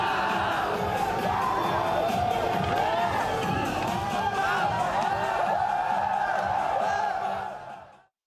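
Concert crowd at a Korean trot singer's performance cheering and shouting loudly, a sustained roar of voices with whoops and a singing voice over it, fading out at the end.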